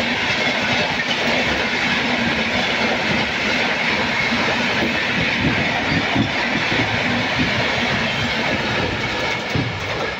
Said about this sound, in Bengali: এই ক্রস করে গেল সাঁতরাগাছি চেন্নাই AC সুপারফাস্ট